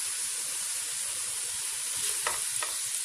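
Onions deep-frying in hot oil for an Eid chicken korma, a steady broadband sizzle throughout with a couple of brief scraping stirs near the end, close and even in level.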